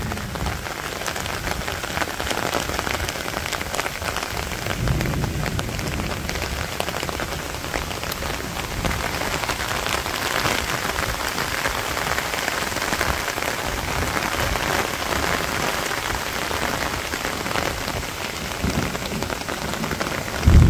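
Heavy rain pours steadily onto surfaces in a Bangladeshi village, a dense, even hiss that stays loud and close throughout with no voices and no distinct thunder.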